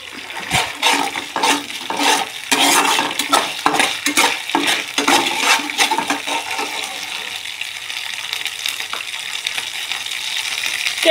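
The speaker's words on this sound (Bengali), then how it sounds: "কেটে ধুয়ে রাখা আলু দিয়ে দেব।" Cut, washed potatoes added to spiced masala in a pan and stirred as they fry. Close scraping and clattering strokes come in an irregular rhythm over a soft sizzle, easing toward the end.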